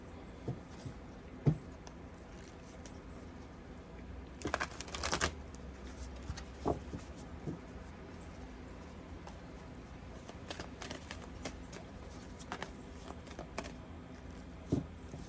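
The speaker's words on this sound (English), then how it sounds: "Let us grab a self-care card." A deck of self-care cards is shuffled by hand, a loose run of soft papery riffles and taps, with one brief louder flurry, close against a low background hum.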